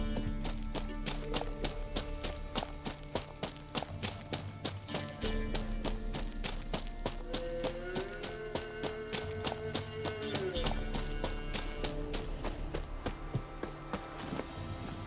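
A horse gallops steadily in The Witcher 3, rhythmic hoofbeats running continuously under a loud orchestral music bed.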